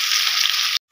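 Raw jackfruit pieces frying in a pan, a loud close hissing sizzle that runs steadily and then cuts off abruptly.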